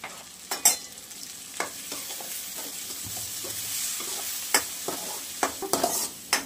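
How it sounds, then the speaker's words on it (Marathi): Chopped onion and tomato fry in a pan with a soft constant sizzle, punctuated by scattered sharp scrapes and taps of a spoon stirring. "कांदा हे फ्राय झाला आपला"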